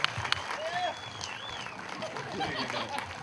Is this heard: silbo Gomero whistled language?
no